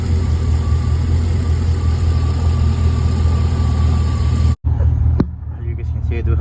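A single-cab pickup truck engine idles roughly with a misfire, running close and loud in a steady low rumble that cuts out briefly near the end before resuming.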